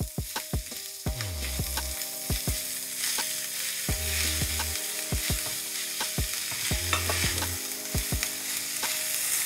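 Garlic and ginger frying in a pan for a seafood biryani, a steady loud sizzle with repeated sharp clinks of a utensil stirring against the pan and occasional low thuds.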